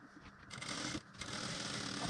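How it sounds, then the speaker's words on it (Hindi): Sewing machine stitching bra fabric at home, a steady continuous mechanical whir running close and loud through the whole stretch with a brief dip midway. "ये देखिए आराम से सिलते जाइए"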